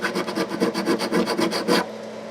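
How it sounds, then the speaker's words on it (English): Rapid rhythmic rasping strokes of 150 or 300 grit abrasive sanding and crowning the frets of a Breedlove acoustic guitar, about a dozen quick scrubbing passes up close before stopping. "we just went over it with 300 or 150 grit, and we got nice crowns on all the frets"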